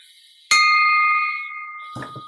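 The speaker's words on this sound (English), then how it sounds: "Clive Worsley would like to ring the bell for Isaac Coast-Reed." A bell is struck once at a Rotary Club meeting, giving a sharp clear ding that rings on with a long decaying tone, followed by a brief shuffle of handling noise.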